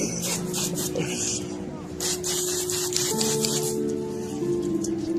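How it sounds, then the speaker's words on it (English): Water sprays from a hose at a boat dock in short hissing bursts, close and fairly loud, with people talking over it. "I'm gonna spray you right now"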